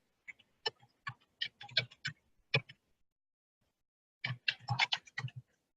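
Someone types a search query on a computer keyboard, close crisp key clicks in two quick bursts separated by a pause of about a second and a half, with no talk over them.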